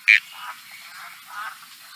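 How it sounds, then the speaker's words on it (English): A Barrington Tops stream frog gives a short series of clear, sharp call notes, the first loudest, followed by softer repeats over a quiet background. "That's the Barrington top stream frog"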